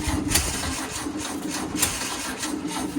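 A 1966 VW Type 3 Fastback engine cranks over after sitting ten years in a garage, a steady whirring churn with periodic pulses running throughout at close range, no voices.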